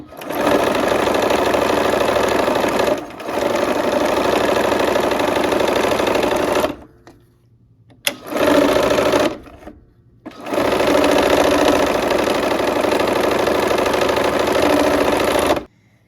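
A sewing machine stitches a quarter-inch quilt seam with a quarter-inch presser foot, running loud and close in long steady bursts separated by brief stops.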